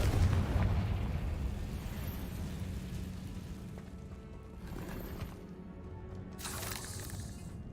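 Confringo spell blasts in the video game Hogwarts Legacy boom and rumble, a heavy low explosive roar that slowly fades, with a few sharper bursts later.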